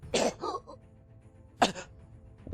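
A narrator imitates a wounded character coughing up blood, giving two rough, throaty coughs separated by a pause, close and fairly quiet.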